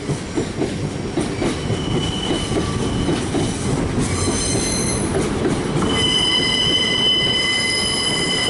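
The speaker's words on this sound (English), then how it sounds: "we've got this two-car northern service departing" A two-car Northern passenger train rumbles steadily away from Manchester Piccadilly station close by, its wheels squealing with high sustained tones throughout.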